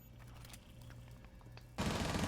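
Submachine gun and rifle fire in a Rainbow Six Siege esports match: a faint, low hum, then a loud burst of rapid automatic gunfire at the very end.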